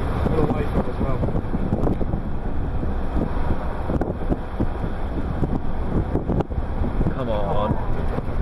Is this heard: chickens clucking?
no